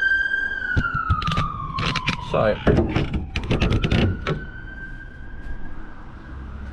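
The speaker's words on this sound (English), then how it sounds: "Ambulance." An ambulance siren wails steadily in the background, its pitch sliding down slightly as it passes, while a person talks and objects clatter nearby inside a Peugeot Boxer van.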